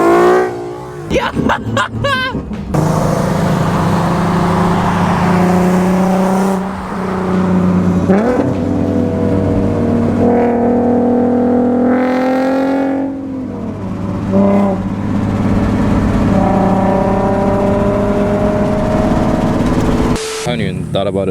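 A car with an aftermarket exhaust drives past, its loud engine drone rising and falling through several revs and gear changes over a long stretch, with hissy rushing noise mixed in.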